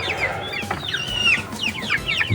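Rhode Island Red chickens clucking close by, a run of short throaty clucks and squawks over a couple of seconds with faint farmyard background and no talk.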